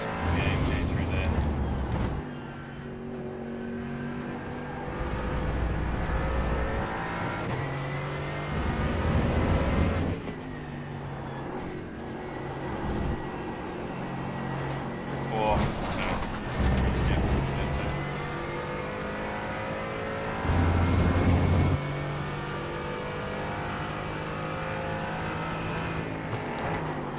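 A Mercedes-AMG GT4 race car in iRacing at the Red Bull Ring drones steadily through gear changes and rising, falling revs for nearly half a minute, with talk running over the engine.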